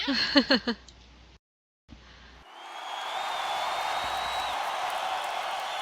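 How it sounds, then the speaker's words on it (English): A studio audience bursts into steady applause on a talk show set, filling the room evenly for several seconds after a few brief voices and a short silent gap. "Yay, applause."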